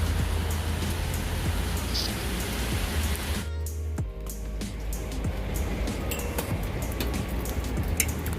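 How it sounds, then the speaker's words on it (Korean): Steady rain pours down on a wet day in Tokyo, a continuous dense hiss with a low rumble underneath and no voices, holding at an even level throughout. "오늘은 하루 종일 비가 왔습니다."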